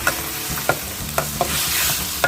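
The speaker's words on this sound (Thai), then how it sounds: "พี่ปูใช้กะทิผัดกับพริกแกงนะคะ" Curry paste stir-fried with coconut milk in a pan, a thick bubbling sizzle with a few distinct spatula scrapes at irregular intervals, close and brief, no voices.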